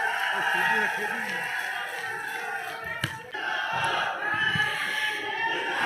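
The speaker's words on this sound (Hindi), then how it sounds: "जोरदार तालियां।" Outdoor political rally crowd in Tosham, Haryana, roaring and cheering continuously, a dense wash of voices with a brief dip midway before the noise swells again.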